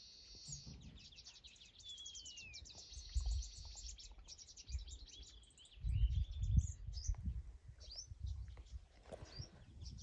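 Small birds chirp and twitter rapidly in bursts, close by, with low rustling and scraping noises underneath, as a sparrow builds a nest.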